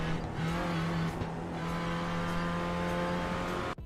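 Renault Clio Cup race car in a sim racing game at Knockhill, engine droning loud and steady with a sustained tonal whine and shifting pitch, close and unbroken.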